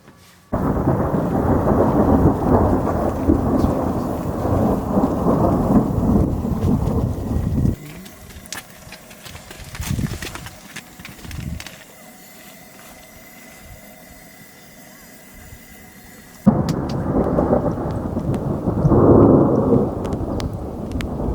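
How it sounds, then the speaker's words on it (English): Thunderstorm with rain following a hailstorm in Peru's wet season, heard while camping outdoors. Heavy rain roars loudly, fades to a quieter stretch with distant rumbles, then surges back hard near the end. "we just had a hailstorm"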